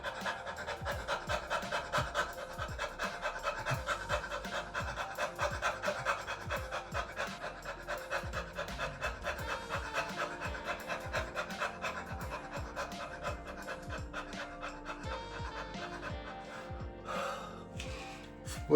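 A person does a dog-like panting vocal exercise with the tongue hanging out, breathing in and out rapidly in a steady rhythmic series of short, close, breathy pants, like an imitation of a panting dog.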